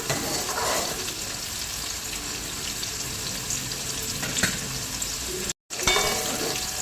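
Whole onions fry in hot oil for a fish curry, browning slowly with a dense, continuous sizzle and occasional stirring scrapes, broken by one short gap near the end.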